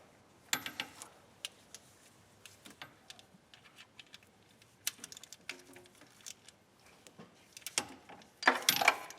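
Metallic clicks and ratcheting of a spark plug being threaded back into the number 3 cylinder of a 2008 Chevrolet Silverado engine during a tune-up, with scattered close taps, a burst of rapid ratchet clicks near the end.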